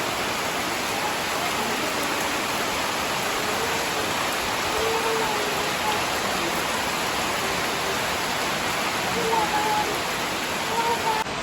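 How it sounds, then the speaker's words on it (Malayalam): Rain falls steadily outside near a road, a constant hissing wash that holds evenly throughout, with a voice talking softly beneath it. "അപ്പോൾ ചെറുതായിട്ടൊരു മഴയൊക്കെ പെയ്യുന്നുണ്ട്"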